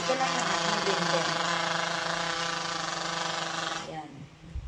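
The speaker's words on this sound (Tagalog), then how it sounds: "I-blender na natin siya." A small kitchen blender whirs steadily at close range for about four seconds, blending mango, then cuts off, leaving a faint rattle.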